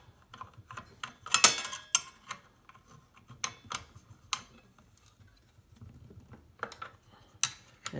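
A wrench tightens the arbor nut of a circular saw blade held by locking pliers, producing a run of close metallic clicks, ratcheting taps and clinks in irregular bursts, with no voice over them.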